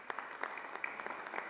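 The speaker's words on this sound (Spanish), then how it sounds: "Un aplauso muy fuerte para la doctora" An audience at an academic ceremony gives brief, fairly quiet applause, a short patter of scattered clapping heard from a distance.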